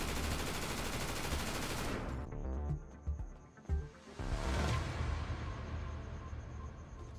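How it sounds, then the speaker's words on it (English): Rapid bursts of automatic gunfire in GTA roleplay crackle loudly, break off briefly, then resume in a dense, sustained volley. "Officer, I heard gunshots!"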